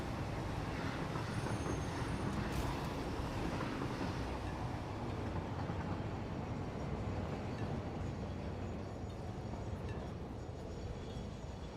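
Train rolling along the tracks in a rail-building video game, a steady rumbling clatter with faint wheel squeal and airy wind-like noise, continuous and fairly loud throughout.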